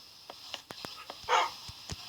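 A dog barks in a series of short, sharp yaps at a house, about eight quick barks in two seconds at moderate distance, with a brief scuffling noise in the middle.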